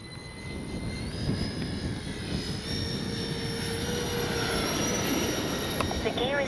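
A Freewing 80mm A-10 Thunderbolt V2 RC model jet flies past with a steady, sustained electric ducted-fan whine and rushing drone, held at a fairly even level throughout under outdoor ambience.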